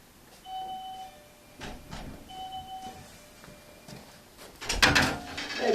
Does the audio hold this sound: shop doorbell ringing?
yes